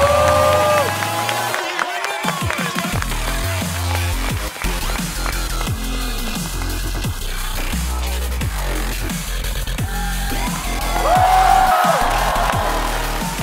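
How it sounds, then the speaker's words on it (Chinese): A stand-up comedy audience breaks into applause and cheering as a comedian is welcomed on stage, a loud crowd roar that holds steady and swells again near the end, with music mixed in. "接下来让我们掌声有请不踢足球讲段子的冯潇霆"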